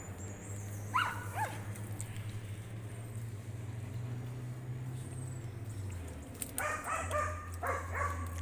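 Hunting dogs working a city hunt whimper and yip in short high bursts, early on and again near the end, over a low steady engine-like drone, fairly faint and with no speech.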